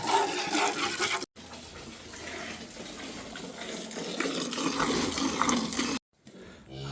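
A strong, steady rush of milk streams from a cow into a bucket, continuous and close, with brief breaks partway through.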